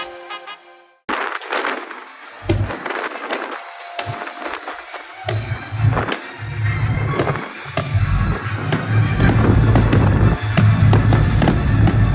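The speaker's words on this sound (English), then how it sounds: "Pirate Night ends with fireworks" Fireworks explode over a cruise ship at sea in a rapid, loud series of booms and crackles, building into a dense, continuous barrage toward the end.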